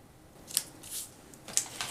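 A few quick, crisp cuts slice through paper while trimming scrapbook pieces, with brief sliding swishes between them, close and fairly quiet.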